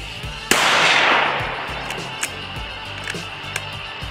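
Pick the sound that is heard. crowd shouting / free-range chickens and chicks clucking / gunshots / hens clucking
gunshots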